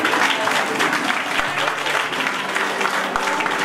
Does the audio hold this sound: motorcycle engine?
no